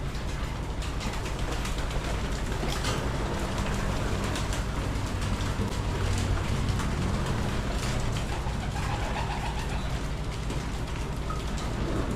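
Heavy rain drums steadily on a pigeon loft, a dense, continuous wash of patter with no break, loud and close throughout.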